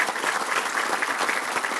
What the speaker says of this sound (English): I think we give ourselves a round of applause.